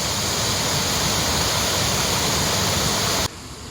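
Strong, steady roar of water rushing through a canal lock on a narrowboat stretch between Theale and Burghfield, loud and continuous, then dropping abruptly to a quieter hiss near the end.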